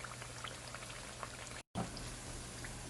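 Twice-fried plantains sizzle in hot oil, a steady, fairly faint bubbling crackle with tiny pops and a low hum underneath, briefly cut out partway through.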